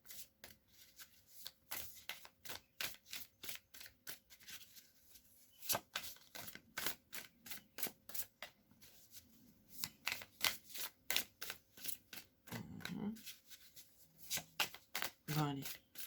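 Oracle cards are shuffled and drawn in quick repeated riffling bursts, crisp and close, with short pauses between runs and a voice speaking softly underneath at times.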